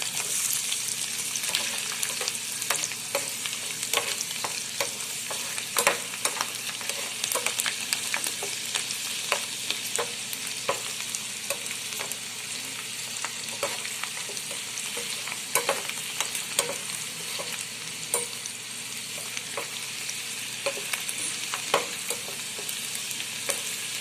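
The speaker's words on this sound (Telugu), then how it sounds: "దీంట్లో కొంచెం ఇంగువ వేసుకుందాం. సో ఇది బాగా వేగాలి." Ginger pickle tempering sizzles steadily in hot oil with asafoetida, a constant bright frying hiss broken by frequent small crackles and stirring clicks, close and fairly loud without any talking.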